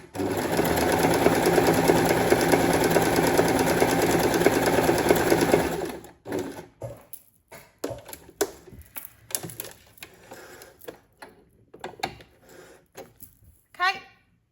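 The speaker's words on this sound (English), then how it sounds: "I've just got it set to a straight stitch, which is B on my sewing machine" A sewing machine set to straight stitch runs in a fast, steady stitching whir for about six seconds, then stops, followed by scattered clicks and handling noises.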